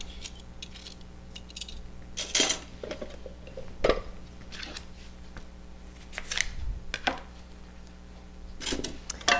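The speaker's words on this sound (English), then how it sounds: "I'm going to peel it just to make it nicer." A root vegetable being peeled by hand, with irregular scraping strokes and small clicks of the peeler against the skin, close and fairly quiet, with no talking.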